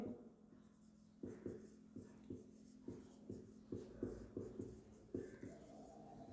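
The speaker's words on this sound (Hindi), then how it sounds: "अगला बिंदु यही लिखता हूं मैं सामने" Chalk or marker tapping and scraping on a classroom board during a Hindi lesson, a quick irregular series of short strokes, fairly quiet and close.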